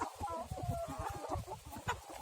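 Broody village hens cluck softly and continuously nearby in low, quiet, repeated murmurs with occasional sharper notes.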